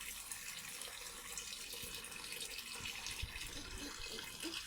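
Water runs steadily from a tap while a young child is bathed, a continuous hissing splash close by with faint bumps underneath.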